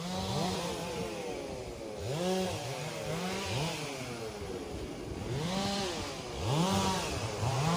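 Chainsaw cutting at a rubber tree felling in a plantation, the engine revving and bogging in a repeating rhythm of whining surges, loud and close throughout with no talk.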